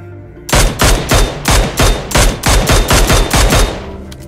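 Rapid automatic gunfire rings out in a shooting video game, about a dozen loud, punchy shots in a fast, even stream that trails off at the end.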